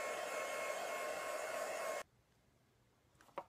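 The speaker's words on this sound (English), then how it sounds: "take your heating tool and just add some heat to dry the ink off the card" Embossing heat tool blowing steadily over inked cardstock, a loud continuous whooshing hum for about two seconds that cuts off abruptly, followed by faint handling sounds.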